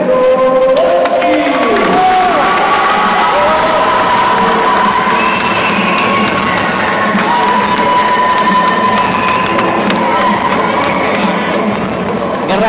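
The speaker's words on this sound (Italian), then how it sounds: "pubblico un applauso per Tecno Boici." Boxing crowd at a Siena Mens Sana bout cheers and applauds a boxer in the red corner, a loud continuous roar of shouts and clapping with scattered whistles and calls throughout.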